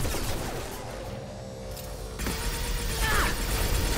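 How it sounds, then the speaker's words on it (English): Concussive shot ability in Mass Effect firing amid a dense, continuous din of combat gunfire and mechanical clatter, with a sharp burst standing out near the end. "Nice shot with that concussive shot"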